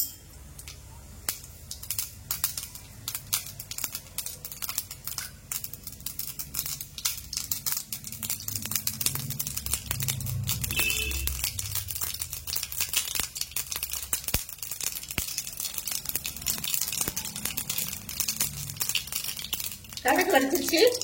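Mustard seeds and urad dal spluttering in hot oil make a dense, continuous crackle of sharp little pops, with a voice speaking at times and a louder burst at the very end.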